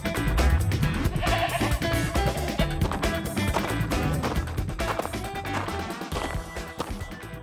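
Cartoon sheep on a farm bleats among busy background music and effects, the bleats short and mixed into a dense, loud soundtrack with no speech.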